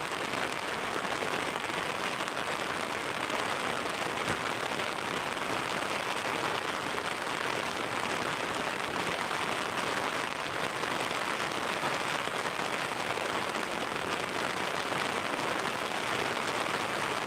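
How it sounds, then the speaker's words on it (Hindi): Heavy monsoon rain pours down steadily during flooding, a dense unbroken hiss of drops on surfaces that stays loud and even throughout with no voices. "बारिश बढ़ गया भाई बहुत।"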